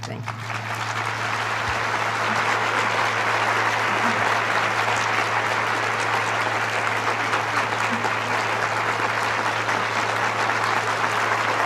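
An audience applauds after Gloria Steinem's speech at a university women's center anniversary celebration: steady, dense clapping from a large crowd that holds evenly throughout.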